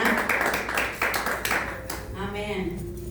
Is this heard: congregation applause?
yes